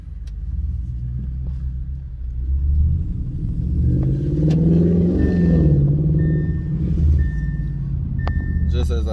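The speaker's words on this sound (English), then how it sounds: "my exhaust is overdoing anything else that you could possibly do" Audi S6 fitted with a CTS intake, its exhaust rumbling deep and loud close by, swelling as the engine revs and then holding a steady throaty drone.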